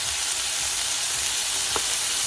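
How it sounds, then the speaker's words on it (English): Vegetables sauté in a hot pan as fish sauce goes in, giving a steady, even close sizzle throughout with a faint stir in the middle. "Saute the vegetables. Now I am adding fish sauce."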